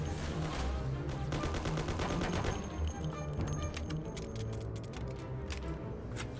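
Full-auto gunfire in a video game crackles in long rapid bursts, loud and close, thinning into scattered shots toward the end.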